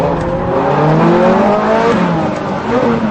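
A Ferrari F430 Scuderia engine roars loud and close on a race track, running flat out in fourth gear near 8,500 rpm, its pitch climbing and wavering in a continuous high-revving howl.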